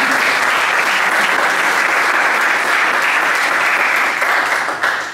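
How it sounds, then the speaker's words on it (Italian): Steady, dense applause from an audience at an Italian anti-mafia music event, loud and continuous for the whole stretch, tapering slightly at the very end. "un applauso"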